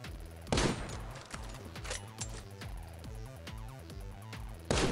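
Gunfire in the mobile battle-royale game Knives Out, rapid repeated shots with loud bursts at the start and end, sustained throughout without talk.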